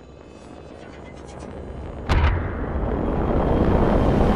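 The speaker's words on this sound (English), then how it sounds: "Listen up, I'm calling a lifeline package in" In Apex Legends, a Lifeline care package drops in with a rising whoosh, a sharp metallic impact thump at the midpoint, then a loud sustained roar of rushing air and machinery.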